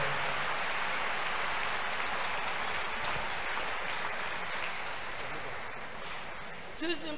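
Congregation applauding at a church crusade, a dense steady wash of clapping from a large crowd throughout, with a brief voice near the end.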